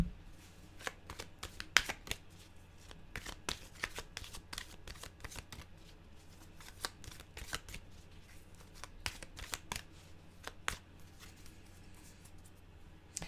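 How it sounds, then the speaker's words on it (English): Oracle cards shuffled and drawn from a deck, many soft, quick riffling taps and flicks close by, steady and fairly quiet, with no talking. "we'll get an animal card here"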